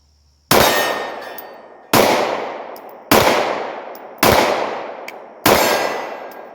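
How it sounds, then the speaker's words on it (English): A Sig 320 M17 pistol fires five shots at roughly one-second intervals, each one a sharp crack paired with a ringing clang from a steel target that fades out before the next shot, loud and close. "So same deal, let's shoot the 320."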